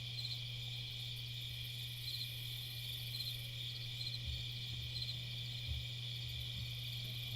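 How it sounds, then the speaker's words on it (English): Crickets chirp outdoors at night during telescope viewing, a steady high-pitched trill that fills the background alone, faint and continuous with no pauses. "Won't be the same without the crickets."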